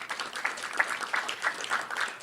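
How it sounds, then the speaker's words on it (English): Audience applause for a researcher at a science update meeting on FSH research, moderate and fairly distant, with irregular pulses of clapping from a modest crowd. "Let's give him a round of applause"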